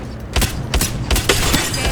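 Shotgun blasts in a video game boom in quick succession, several heavy shots packed into under two seconds, loud and close with no talk.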